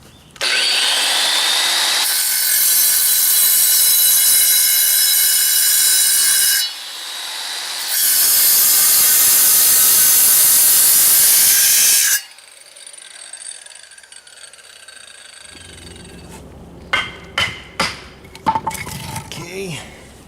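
Power saw cutting old brick pieces, with two long, loud, steady cutting runs up close. Quieter scraping and a few sharp knocks follow as the pieces are handled.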